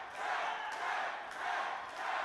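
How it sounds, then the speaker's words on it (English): Crowd at an independent wrestling event cheering and chanting in swelling waves, moderately loud and somewhat distant, no talk on top. "this crowd getting behind the Rev Ron Hunt."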